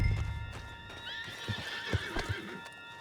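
In Red Dead Redemption 2, a horse whinnies loudly and close up, its neigh rising and wavering over heavy hoof thuds and clip-clops that strike in an uneven rhythm, with a low rumbling game soundscape underneath.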